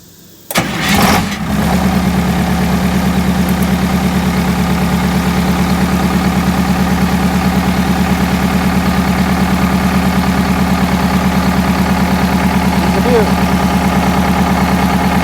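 An MCI5 bus engine cranks briefly with a sharp burst and catches, then settles into a loud, steady, low-pitched idle rumble that continues unbroken, with faint voices in the background.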